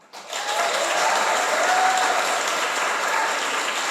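An audience at a panel discussion breaks into applause that swells quickly and holds as a steady, full clapping for several seconds.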